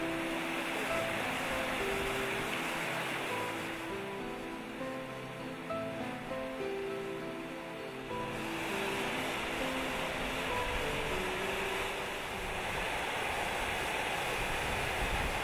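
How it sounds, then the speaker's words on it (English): Crystal clear, cold water of the Mura River in Austria's Hohe Tauern National Park rushes rapidly over a rock shelf, a steady, dense broadband roar with soft musical tones drifting faintly beneath. "We are enchanted by the murmur of the crystal clear and cold water that rapidly flows over a rock shelf and into the valley"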